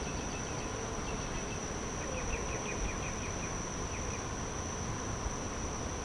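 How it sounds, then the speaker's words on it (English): A swarming honeybee hive heard during a backyard hive inspection: a steady, faint outdoor insect buzz that runs through the whole scene, with no talking. "that is a familiar sound, which is a sound of a hive swarming"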